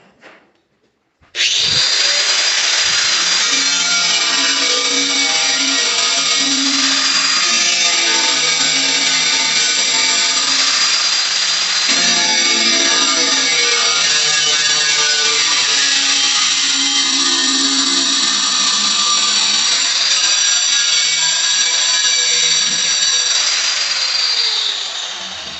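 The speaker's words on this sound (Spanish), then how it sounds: "Y con la pulidora ya va a proceder a cortarla." An angle grinder cuts through a ceramic floor tile during floor installation, a loud, steady high-pitched whine that runs continuously for over twenty seconds with slight shifts in pitch as the blade bites.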